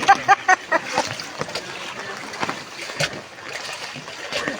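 Small boat moving through water in the Philippines during a storm, with splashing and lapping water throughout and several sharp knocks at the start; people talk nearby.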